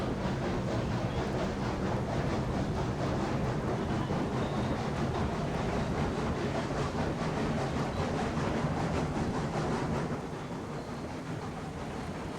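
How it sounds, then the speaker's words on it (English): Diesel locomotives in the video game Railroads Online strain to haul a heavy train uphill, giving a dense, continuous rumble and clatter that eases slightly near the end. "Still a pretty heavy train that these units have to move uphill here."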